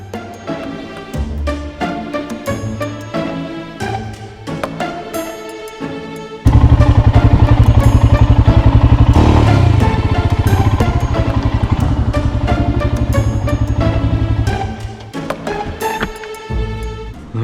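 A Royal Enfield Himalayan 411 motorcycle on the road, its single-cylinder engine loud and close, rising to a sustained full-throttle roar for several seconds before easing back down.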